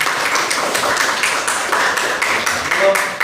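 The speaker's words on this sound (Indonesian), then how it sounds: "tepuk tangan buat kita semua" A classroom group claps together, a loud run of fairly regular, sharp hand claps at close range that keeps a steady rhythm throughout, with voices talking underneath.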